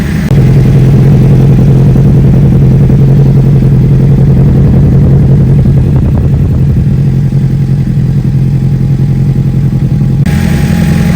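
A Suzuki GSX-R600 sport motorcycle engine idles loudly and steadily nearby while warming to normal temperature, a constant low throbbing rumble with a faint mechanical clatter throughout.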